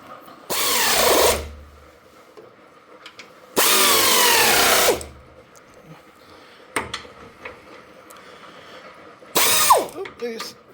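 Power drill driving T40 bolts to mount driving fog lights, in three loud bursts of whirring with ratcheting clatter, each about a second long, separated by quieter stretches of handling noise.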